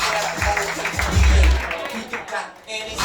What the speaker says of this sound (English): Clap it up, plunge again for Joe Praino.